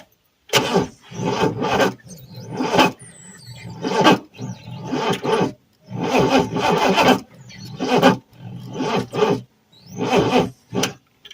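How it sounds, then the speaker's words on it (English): An Oldsmobile Toronado engine cranks over in repeated bursts of several seconds each, separated by short pauses, loud and close, with a rough rhythmic churning and no voices. "let's see about cranking her over now"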